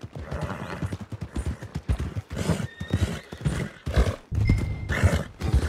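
A horse in the video game Red Dead Redemption 2, its hooves clip-clopping steadily at close range with loud neighs and whinnies breaking in over the top.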